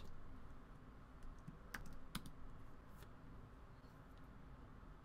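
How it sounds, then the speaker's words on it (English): Keys clatter steadily on a Mac computer keyboard during terminal work, with a few sharper louder strikes among the quieter taps, close and alone. "I start typing"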